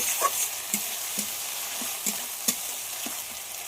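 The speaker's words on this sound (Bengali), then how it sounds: "যতক্ষণ না আদা রসুনের কাঁচা গন্ধটা চলে যায় ততক্ষণ একটু কষিয়ে নেব" Ginger garlic paste sizzles with melted tomatoes in a hot pan, a steady frying hiss broken by about eight spaced scrapes of a spoon stirring the masala, close and moderately loud with no talk.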